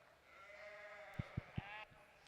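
Dorset sheep bleat at a livestock breeding show, a wavering, nasal bleat held for over a second, with three quick dull thumps partway through and the faint murmur of a busy show ring behind.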